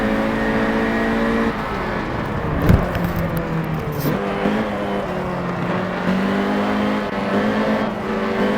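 A car engine idles and revs steadily up close at night, its low droning tone holding for several seconds with a brief sharper burst partway through, no voices over it.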